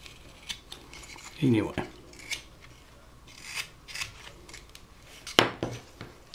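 A knife carves a wooden relief figure, rounding off rough edges in a few short, dry scraping strokes spaced apart, close up and moderate in level, with a brief spoken word in between.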